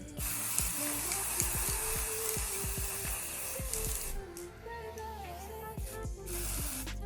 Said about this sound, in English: I'm just going to spray it on here.